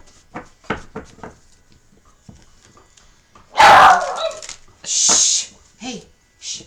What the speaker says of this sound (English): He's got quite the bark on him, I'll tell you.